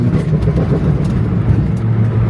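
Straight-piped Nissan 350Z engine running rough, with a loud, close, uneven exhaust rumble that stumbles and sputters in irregular bursts as it falters and cuts out, with no talking.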